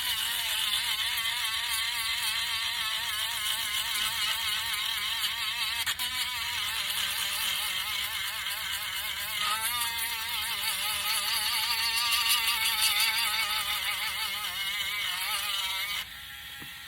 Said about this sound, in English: This is a brand new sander.